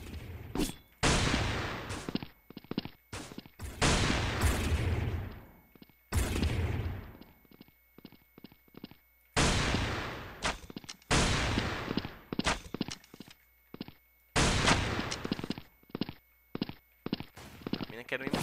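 Rapid bursts of gunfire in the video game Blood Strike, loud and close, firing in clusters and volleys with brief pauses between them.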